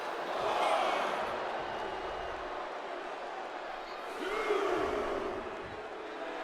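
Arena crowd noise from a WWE 2K24 wrestling match, a steady roar of cheering that swells twice, with a commentator talking over it.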